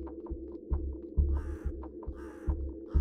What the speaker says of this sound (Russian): Ворона каркает, реально.